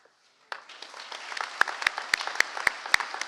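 A graduation crowd breaks into applause for honored students after a brief quiet start, with scattered individual claps standing out sharply above the steady ovation.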